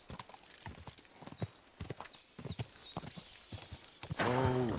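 Horse hooves clip-clop in a quick, uneven patter in Kingdom Come: Deliverance II, with a brief whinny and rustling near the end; no talking is heard.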